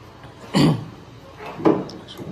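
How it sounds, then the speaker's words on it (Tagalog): Two short, rough coughs about a second apart, close and fairly loud over a quiet background. "Inuubo kasi ako."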